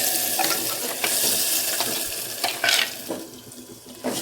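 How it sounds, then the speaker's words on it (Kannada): Ground paste with roasted gram stirred and frying in hot oil in a home kitchen, a steady close sizzle with scraping stir strokes and occasional clatter, no voices. "ಹಾಕಿ ಚೆನ್ನಾಗಿ ಎಣ್ಣೆಲಿ ಬಂದ್ಕೋಬೇಕು."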